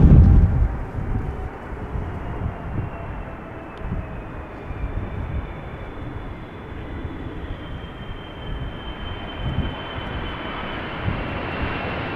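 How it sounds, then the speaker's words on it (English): Emirates SkyCargo Boeing 747 freighter, about a year old, arriving at Amsterdam Schiphol: a steady, broad jet roar rises at first, then holds as a continuous rumble with no talk. "747 freighter, relatively new, 1 year old."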